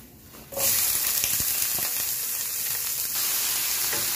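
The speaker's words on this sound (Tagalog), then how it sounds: "nagisa tayo dito ng onion, garlic, kamatis" Onion and garlic sizzle steadily in a hot pot, a sharp frying hiss that starts suddenly and keeps going, close and loud.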